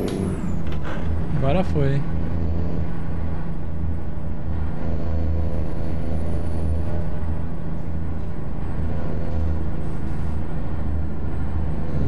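A truck in American Truck Simulator gives a steady, loud, low engine drone with a short air-brake hiss near the start, while someone talks over it.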